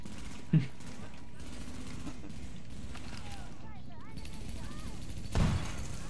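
Two sharp gunshots ring out a few seconds apart over a steady background hum of game audio from The Division on PC.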